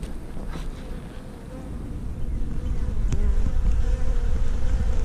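Honeybees swarm and buzz around an active beehive whose new queen has just returned, making a dense, continuous hum close to the listener that grows slightly louder and fuller as it goes on, with no voices.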